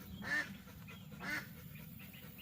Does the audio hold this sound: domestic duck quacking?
yes